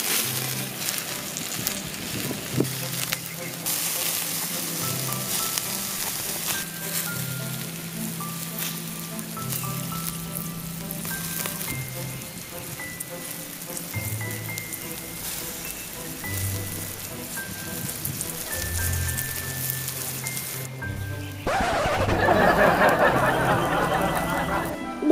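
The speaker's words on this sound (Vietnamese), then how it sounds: "xèo xèo lửa lên luôn" Scallion oil sizzling in a hot pan while seafood is cooked, a steady crackling hiss heard close and loud throughout, under background music, growing brighter and harsher near the end.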